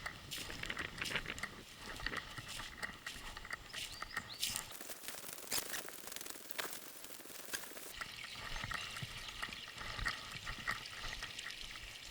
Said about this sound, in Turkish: Saftabağ'ın şelalesini görüntüledik.